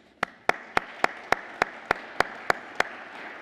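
Audience applause at an agricultural conference, heard as roughly eleven sharp, evenly spaced claps over about three seconds. The claps are fairly faint and sound like only a few hands.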